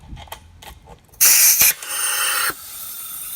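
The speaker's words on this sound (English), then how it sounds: "So now it's blowing air out into the system." An air compressor blows a sharp burst of rushing air in loudly, then drops to a steadier, softer hiss of air flowing through irrigation sprinkler pipes, after some faint clicks.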